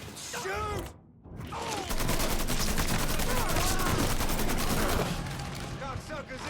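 Dense, continuous automatic gunfire in the Mafia III video game, loud and unbroken apart from a brief drop near the start, with a voice faintly in the mix.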